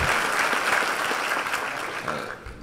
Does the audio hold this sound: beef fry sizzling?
no